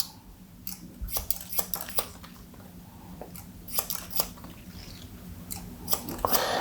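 Scissors snipping hair during a wavy fringe haircut, a series of quick, close, crisp cuts in irregular bursts over a faint background hum.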